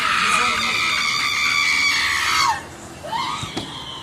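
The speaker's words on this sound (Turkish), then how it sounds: "Tamam bağırmayın hanımefendi bu şekilde bağırmanız size bir şey ifade etmiyor" A woman screams at traffic police officers: a loud, close, sustained shrill scream for about two and a half seconds, then a second rising cry after a brief drop.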